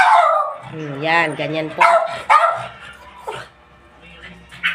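Male dog agitated by a female in heat barks and whines close by in loud, pitched yelps and whimpers, repeating in short bursts as someone speaks briefly over the noise.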